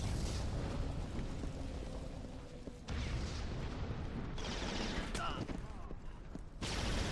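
Rumbling explosions and gunfire crash through in the shooter Resistance: Fall of Man, as cars blow up in repeated heavy bursts over a constant noisy battle din.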